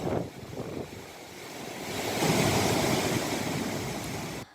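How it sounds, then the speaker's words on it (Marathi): Water released through the sixth automatic gate of the Radhanagari dam, heard as a steady, broad roar of rushing flow that swells slightly midway, continuous and loud without speech. "या धरणाचा स्वयंचलित दरवाजा सुद्धा उघडलेला आहे. 6 क्रमांकाचा हा दरवाजा आहे. मध्यरात्री उघडून त्यातून 1428 क्युसेक पाण्याचा विसर्ग केला जातोय."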